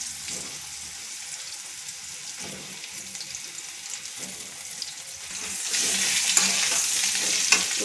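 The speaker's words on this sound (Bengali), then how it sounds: "ডাটা আলু দিয়ে মাছের ঝোল হবে, তাই মাছটা ভেজে নিচ্ছি।" Fish frying in a pan for a fish curry with stalks and potatoes, a steady close sizzle with occasional stirring scrapes that grows louder and brighter toward the end, with no talking.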